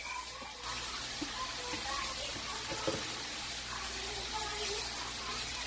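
Water poured from a bucket into a pot of seasoned Jamaican curry chicken, a steady rushing gush running several seconds in a home kitchen, with low background noise throughout.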